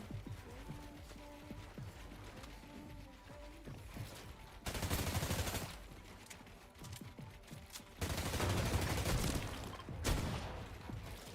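Gunfire in the video game Fortnite comes in two loud, dense bursts of rapid shots between quieter stretches of clicking, mechanical reloading and handling sounds.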